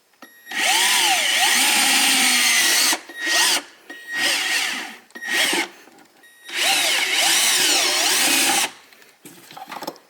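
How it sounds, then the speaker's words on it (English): A power drill whirs loudly in several bursts while drilling winch mount holes on a Honda Pioneer UTV, a long run, a few short stop-start pulses, then another long spell of drilling, close by. "we're going to drill the two mount holes right there, mark them and drill them"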